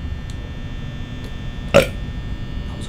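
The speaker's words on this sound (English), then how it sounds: "That was a good burp" A single short, abrupt burp pops out of a steady electrical hum, brief and fairly close, with nothing else around it.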